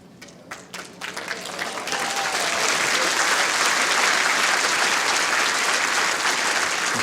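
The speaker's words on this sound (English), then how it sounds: "Encouraging from the crowd." Crowd at the World Indoor Bowls Championship breaking into applause, a few scattered claps swelling quickly into full, sustained clapping that fills the arena and holds steady.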